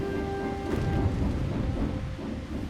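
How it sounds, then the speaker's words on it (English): Thunder from a lightning bolt strike rumbles low and steady through the whole stretch, with a brief tonal ring near the start and no voices. "She shot a lightning bolt attack into the sky, which resulted in a flash of lightning,"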